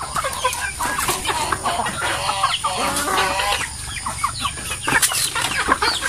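Native chickens cluck busily at feeding time in a farmyard, a dense overlapping chorus of close clucks and short calls with a few sharper squawks, and no talk.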